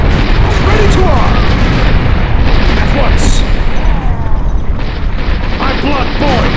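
Artillery fire in Empire Earth 2 booms continuously through a dense, loud battle din, with voices calling out over the rumble.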